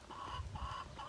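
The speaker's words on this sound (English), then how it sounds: "The one that's just walking around, that is a Barnvelder rooster." A Barnvelder rooster gives a few soft, low clucks, quiet and fairly close, with no other voices.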